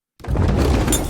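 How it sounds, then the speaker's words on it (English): Decorative glass inlay in a heavy oak front door shatters in one loud, sudden crash that breaks out of silence, then a sustained bright scatter of breaking and falling glass fragments. "The shatter of the decorative glass inlay."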